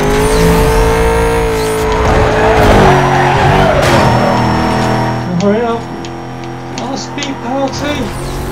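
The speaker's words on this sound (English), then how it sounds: "Looks like someone spun out." A car spinning out in Need for Speed Most Wanted, loud sustained tire squeal and skidding over a revving engine that fades as the car slides away, with game audio continuing around it.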